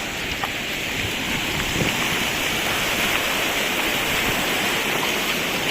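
Heavy rain pours steadily onto a road in Saudi Arabia, a dense continuous hiss of water with splashing, loud and unbroken throughout.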